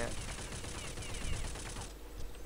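Sustained full-auto fire from a suppressed M4A1-S rifle in a Counter-Strike mod, a rapid steady rattle of shots for about two seconds that stops abruptly, with someone speaking over it.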